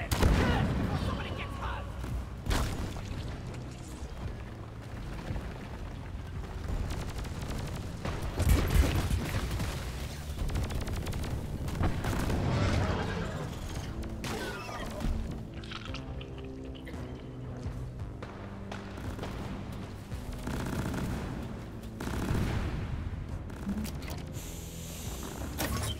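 Sporadic gunfire and mechanical clatter fill a cave fight in Deep Rock Galactic, with bursts and thuds of varying loudness scattered throughout, mixed with drips and other game effects while a voice talks at times.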